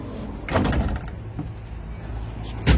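Middle door of a police van opening during a roadside arrest, a short loud clunk and slide near the start followed by another sharp bang at the end, with quiet street ambience between.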